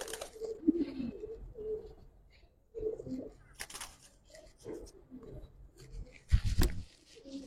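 Giribaz pigeons of an Old Dhaka breed coo in short, low, rounded bursts that come and go over several seconds, fairly close, with quiet pauses and a little background clatter between calls.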